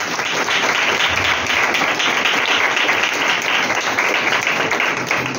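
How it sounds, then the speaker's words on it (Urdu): A congregation claps together at an Easter sunrise prayer service, a dense, steady wash of many hands sustained evenly for several seconds with no other sound standing out. "ہلیلویا, تالی بجا سکتے ہیں"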